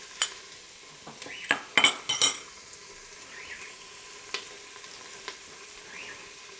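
Onion and tomato paste cooking in an Instant Pot, with a soft steady sizzle broken by a few loud stirring scrapes and clinks of a utensil against the pot early on, then quieter frying with occasional taps.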